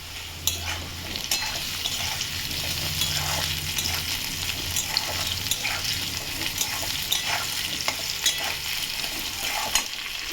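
Potatoes fry in a pan, sizzling steadily as a utensil stirs and scrapes through them, with clinks and scraping strokes close by over a constant bright frying hiss.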